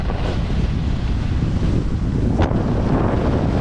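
Strong wind roars steadily across the microphone on a ski run at Blackcomb, a constant broadband rush with a brief whoosh near the end.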